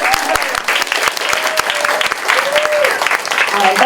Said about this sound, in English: can we get one more round of applause for Tom and all the poets?